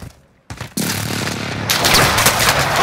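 Gunfire in Call of Duty Rebirth Season 5: a short quiet moment, then loud sustained automatic fire and rapid shots crowding together, close and continuous with no pauses.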